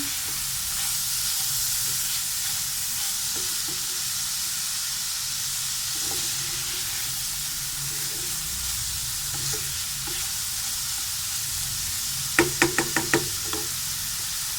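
Green chillies stirred in a sizzling pan while an egg breakfast is being cooked: a steady hissing fry with occasional soft scrapes, then a quick burst of sharp knocks near the end.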